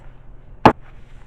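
A cold process soap mold is banged once against a hard surface, giving a single sharp, close thud that stands alone against a quiet room.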